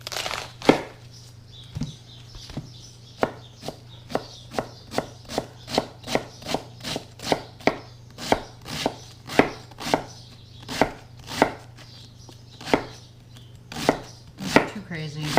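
A sharp knife chopping cabbage for coleslaw on a board, making a long run of crisp, crunchy cuts in a steady, fairly fast rhythm, close and clear, with a low hum behind it.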